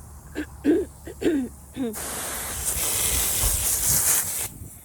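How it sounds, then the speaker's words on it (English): A high-pressure water hose sprays unpeeled summer carrots in a steady, loud hiss that starts abruptly after a short spoken phrase and runs for about three seconds before cutting off. "So I'm getting ready to hose these carrots off."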